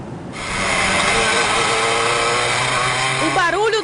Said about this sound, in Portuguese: O barulho do ronco dos motores